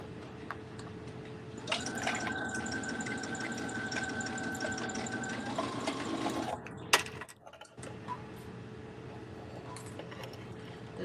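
A sewing machine runs for several seconds with a steady whirring, rhythmic mechanical buzz, then stops with a few clicks and knocks; quiet indoor background.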